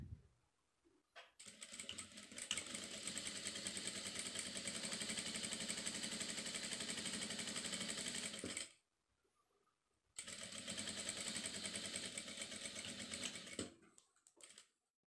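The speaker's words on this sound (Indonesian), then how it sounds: "Selanjutnya kita jahit bagian untuk tempat karetnya atau tempat elastisnya." An electric sewing machine stitches the elastic casing of a knotted cotton headband, running in two long steady bursts of fast, even mechanical whirring with a brief pause between them, close up and without speech.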